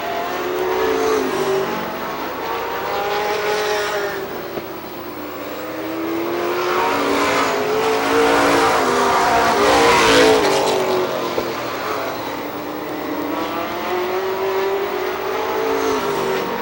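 Race cars roar around the Star Speedway oval in New Hampshire, engines rising and falling in pitch as they sweep past, loud and continuous with swelling passes throughout.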